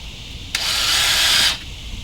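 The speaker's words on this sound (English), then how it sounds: "Go ahead and get my screws through" A power drill drives screws into a cooler chock: one steady, close, high-pitched whirring burst of about a second that starts and stops abruptly against a quiet background.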